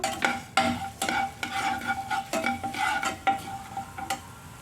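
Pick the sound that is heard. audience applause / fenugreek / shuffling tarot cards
fenugreek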